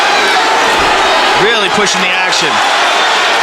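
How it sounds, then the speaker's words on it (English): An MMA arena crowd roars steadily through a third-round exchange, a broad, loud wash of cheering beneath a commentator speaking over it. "And the crowd reacts"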